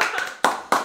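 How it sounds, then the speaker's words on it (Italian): Three sharp hand claps, loud and close, spaced evenly in under a second at a lively home tasting game among friends after a top score for a hazelnut-topped treat. "Un applauso."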